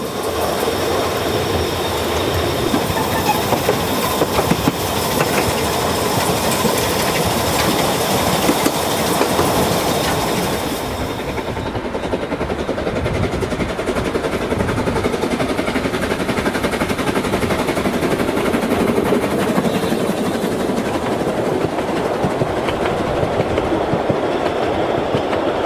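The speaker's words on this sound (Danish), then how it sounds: "Sådan nogle veterantog, sådan nogle damptog her" A vintage steam train on a heritage railway rolls past at about 30 km/h, with a loud continuous rumble of wheels and carriages and rhythmic clattering throughout, fading slightly after the midpoint.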